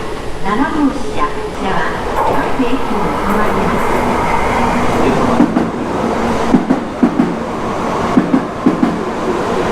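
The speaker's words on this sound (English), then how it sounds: "another Shinkansen just went here across the station" A Shinkansen bullet train passes through a station in Kyoto, a loud continuous rushing roar with rhythmic wheel clacks toward the end, while people talk nearby.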